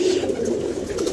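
A pigeon coos close by in a soft, low, rolling call that carries through the whole brief moment, with faint background noise.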